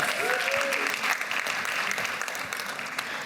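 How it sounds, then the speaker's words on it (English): An audience at a panel on African music breaks into steady applause for the organizers, a dense wash of clapping filling the room, with a brief squeak of feedback near the start. "Can we give a round of applause to the organizers, please?"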